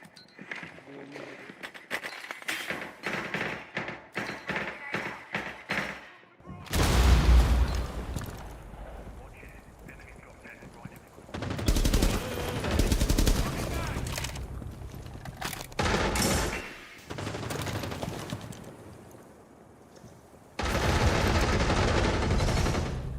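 Gunfire from the Rainbow Six Siege video game sounds in repeated rapid bursts and sustained volleys over about twenty seconds, with loud clusters between quieter gaps. A player's voice talks intermittently.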